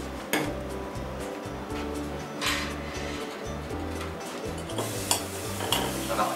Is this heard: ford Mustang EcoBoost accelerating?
no